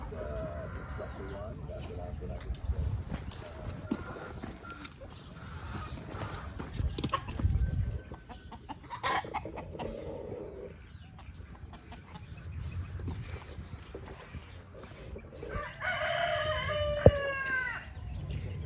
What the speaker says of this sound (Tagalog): Ayan guys, inahin, 4 ang sisiw, 2 medyo puti